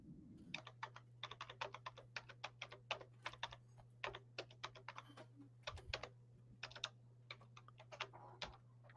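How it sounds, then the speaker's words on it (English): Rapid typing on a computer keyboard, with quick clusters of close key clicks and short pauses over a steady low hum. "Can you guys hear me when I'm typing over here?"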